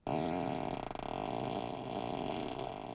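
Tesla Model 3 'Ludicrous Fart' seat sound effect, a wet, bubbly, continuous sputter lasting about three seconds, loud and close with a gurgling liquid texture.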